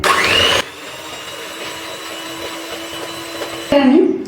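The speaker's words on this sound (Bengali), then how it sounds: "একটা ইলেকট্রিক বিটার নিয়েছি, আমি ক্রিমটাকে একটুখানি বিট করে নেব।" Electric hand beater whipping two cups of fresh cream for homemade mango ice cream: a steady whirring motor hum running about three seconds, with louder bursts of blade rattle against the bowl at the start and end.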